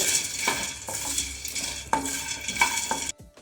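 Small namkeen papad puffs being stirred and roasted in a kadai: a steady dry rattle and scrape with sharp clinks of the spoon against the metal pan at irregular intervals, close up, with no voices.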